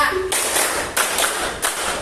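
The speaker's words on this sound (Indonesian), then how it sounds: "Iya, tepuk 1, tepuk 1, tepuk 2, tepuk 3, tepuk 4, tepuk 5," Classroom group clapping game: a few loud bursts of many hands clapping together in short counted rounds, separated by brief pauses, close and sharp.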